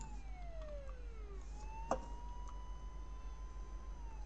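German police siren from Euro Truck Simulator 2, a clear wailing tone that sweeps down, then rises and holds steady, heard alone over a low constant engine hum with a single brief click partway through.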